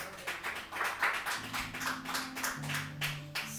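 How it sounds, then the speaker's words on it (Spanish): Church congregation clapping along in a steady rhythmic beat at moderate distance, with a faint sustained organ or keyboard tone running underneath. "¿Cuánto puede dar un aplauso a Dios en esa noche?"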